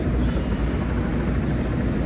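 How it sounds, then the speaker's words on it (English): Helicopters flying over Midtown Manhattan at night, heard as a continuous, fairly loud rotor-and-engine rumble blended with city noise, with no talking. "Whoa, there's 3 helicopters in the sky."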